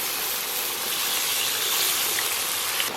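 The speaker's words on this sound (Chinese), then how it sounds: "咱们给里边来点水" Water is poured into a hot pan of frying potatoes and tomato, producing a loud, steady rushing hiss that fills the whole moment without pause.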